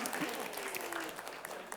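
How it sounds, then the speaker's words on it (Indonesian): Quiet clapping from a studio audience on a televised school quiz show runs under a presenter's voice in a brief, soft burst. "Tepuk tangan dulu untuk kita semua"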